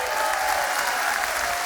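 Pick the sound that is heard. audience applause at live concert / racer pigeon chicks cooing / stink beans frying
audience applause at live concert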